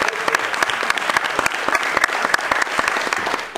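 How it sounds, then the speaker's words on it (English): A room full of people gives a round of applause for student volunteers at a tech community gathering, dense even clapping at close range that holds steady for several seconds and begins to taper at the end. "Let's give them a round of applause as well."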